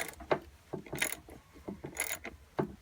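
Ratcheting wrench work loosening two 10mm bolts on a fuel pressure regulator of an inline-six Trailblazer or Envoy, quiet irregular clicks and metallic ticks in a garage with no talk.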